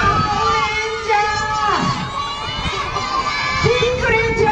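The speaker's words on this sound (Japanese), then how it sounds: "みんなレンジャーに大きな声援を" A crowd of children at a kendama stage show at Toyama velodrome shouts and cheers loudly and continuously for costumed heroes, excited voices overlapping throughout.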